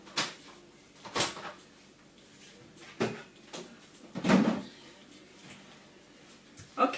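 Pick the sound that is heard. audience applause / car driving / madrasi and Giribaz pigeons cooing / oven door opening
oven door opening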